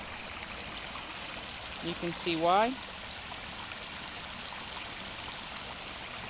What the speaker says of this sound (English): That is the creek flowing. It's at capacity.